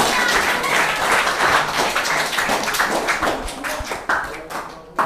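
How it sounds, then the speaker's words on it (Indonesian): Students at a school Qur'an presentation applaud the Al-Busyra group, a dense, sustained burst of clapping from a full room that fades toward the end. "kita beri tepuk tangan kepada kelompok Al-Busyra"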